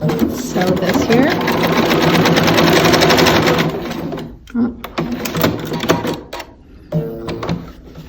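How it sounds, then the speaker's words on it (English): A sewing machine stitches half square triangles for a beginner's quilt, running loud and fast for several seconds before breaking into short, stop-start bursts with handling noises between them. "let's sew this here"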